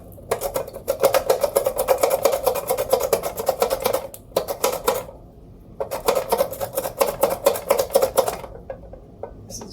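Fresh cucumber run across a handheld slicer into thin rounds, making quick, even rasping strokes in two long rhythmic bursts separated by a short pause, close and clear.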